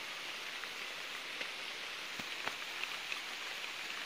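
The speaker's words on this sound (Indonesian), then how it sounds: "tapi ternyata ini hujan." Rain falls on a palm oil plantation in the late afternoon, making an even, unbroken hiss with a few faint drop ticks. It is moderately loud, and no one speaks.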